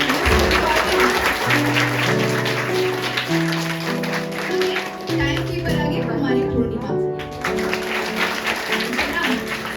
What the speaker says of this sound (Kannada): ಚೆನ್ನಾಗಿ ಚಪ್ಪಾಳೆ ಕೊಡಿ.